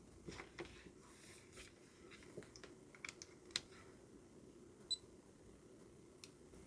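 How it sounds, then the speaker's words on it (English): A soldering station's relay clicks at power-up on a Miniware TS1M 200W mini station fed 28 volts from a bench supply, faint scattered sharp clicks over a quiet room hiss. "there seems to be a sound of relay clicking"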